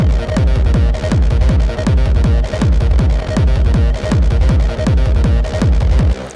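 A looping electronic beat from an SP-404 sampler with punchy repeated drum hits and a squelchy, pulsing TB-303 synth bass line, loud and continuous.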